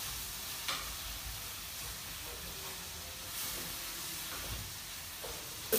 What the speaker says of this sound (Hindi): तब तक भूने जब तक कि मसालों से तेल अलग ना हो जाए